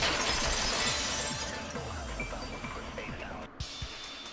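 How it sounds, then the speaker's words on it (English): A vase shattering in the video game Danganronpa 2: Goodbye Despair, a loud burst of breaking glass-like ceramic with scattering shards and clinks that trail off over a few seconds. "If it wasn't the window, then what broke to make that sound? A vase."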